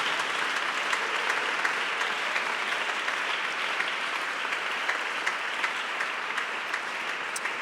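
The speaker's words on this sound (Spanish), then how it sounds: "Aplauda fuerte a Cristo esta mañana con su corazón." Sustained applause from a church congregation during a Sunday morning service: an even, dense wash of many hands clapping continuously at moderate volume, with no break.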